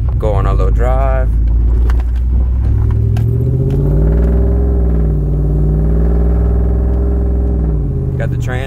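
A pickup truck's cammed LT 5.3 V8 hums and rumbles while driving, its pitch rising and settling smoothly as it shifts, with a brief rattle near the start.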